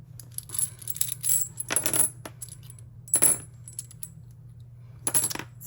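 Teal metal planner discs clink and jingle as they are pulled off binder rings, sounding in several bright metallic bursts separated by short pauses, close and fairly loud in a quiet room.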